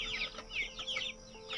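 A silkie and Rhode Island Red cross chicken clucks in a quick series of short, close calls on a free-range farm.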